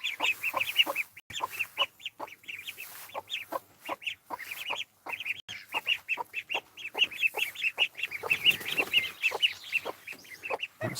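Chickens, a hen among them, cluck in a quick, steady run of short clucks repeated over several seconds, close and fairly quiet in an outdoor forest garden.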